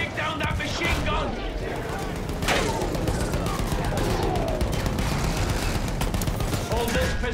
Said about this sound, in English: Take down that machine gun!